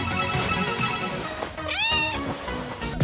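A cat meows once with a rising, drawn-out call in the middle of a busy indoor scene, heard over steady background noise and clatter.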